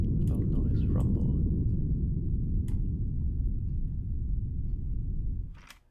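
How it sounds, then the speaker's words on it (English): Synthesized thunder built from filtered white noise: a loud, sustained low rumble that churns and shifts over time with a few brief brighter crackles, then fades out at the end. "So that's our thunder."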